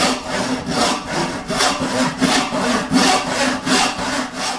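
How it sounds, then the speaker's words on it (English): Hand saw cutting the cheeks of tenons in wood, workpiece held by a hand screw clamp on a saw bench; close, rhythmic back-and-forth strokes, about eleven rasping pulls, with no talking. "it's actually a very stable platform for sawing the cheek cuts of these tenons"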